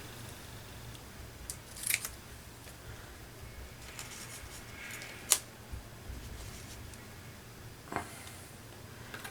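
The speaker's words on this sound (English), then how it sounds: "Let me just snip this one down a bit." Scissors snip paper for a collage, giving a few faint, sparse cuts spread out over quiet room tone. The crispest snip comes near the middle.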